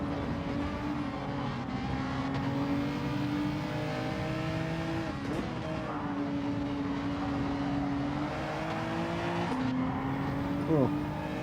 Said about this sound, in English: Cars ahead.